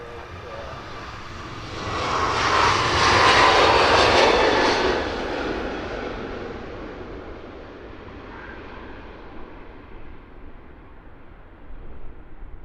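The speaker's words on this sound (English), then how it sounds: "Beautiful day to be on a departing aircraft" A departing aircraft at Luton Airport roars past, its engine noise swelling loud over a few seconds, then fading into a distant rumble, with faint voices underneath.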